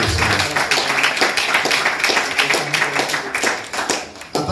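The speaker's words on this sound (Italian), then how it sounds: "un grande applauso per loro" Audience applause at a punk book presentation for Rote Zora's Mutate or Die, a small crowd clapping close by in a rhythmic, pulsing pattern that loosens and thins near the end.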